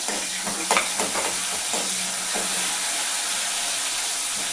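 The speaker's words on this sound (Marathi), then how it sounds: "तेल गरम झालं आहे, त्यामध्ये थोडं जिरं टाकून घेतलं. नंतर कांदा घालू. कांदा मिरची दोन्ही पण परतून घेऊ." Onion and green chili frying in hot oil with cumin, a close, loud, continuous sizzle with a few stirring clatters near the start.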